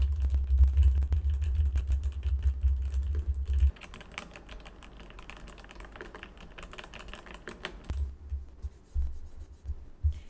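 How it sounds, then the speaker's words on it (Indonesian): Fast, light clicking and clattering from a mechanical keyboard being typed on close by, continuous and fairly quiet, with a low hum in the background. "Mungkin kalau suara keyboard mechanical masih masuk,"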